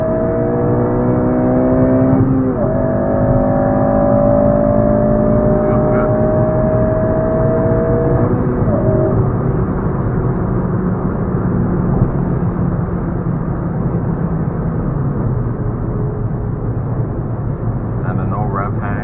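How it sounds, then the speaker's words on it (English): A Honda tuned with a Hondata FlashPro pulls hard in third gear, its engine droning loudly and climbing steadily in pitch, with wind and road roar filling the cabin throughout. "let's do a third gear pull on here"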